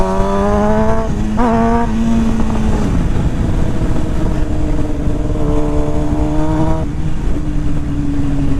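Motorcycle riding on the way to a gas station with the tank nearly empty: a steady engine drone with rising and falling revs through gear changes, loud and continuous throughout.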